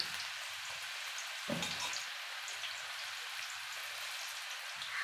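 Ragi pakoda batter deep frying in hot oil, a steady dense crackling sizzle like rain on a surface, with a brief louder burst of bubbling as more batter drops in, no talking.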